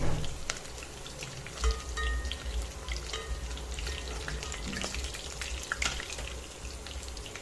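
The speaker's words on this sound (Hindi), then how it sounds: "उनको इसमें ऐड कर देंगे और हल्के से गोल्डन होने तक फ्राई अप कर लेंगे" Finely chopped garlic frying in oil in a pan for a methi malai paneer dish, a steady close crackling sizzle throughout with small bubbling pops and occasional stirring clinks.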